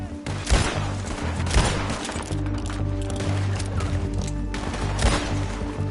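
Rapid gunfire in Red Dead Redemption 2, with several sharp, loud shots cracking at irregular intervals over a steady ambient bed.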